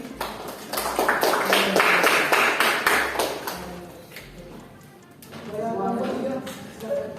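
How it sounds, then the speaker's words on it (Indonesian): Quick, close clapping from a classroom audience for group 1 during a micro-teaching session; the brisk burst of hands dies down and a voice then speaks. "Tepuk tangan kepada kelompok 1."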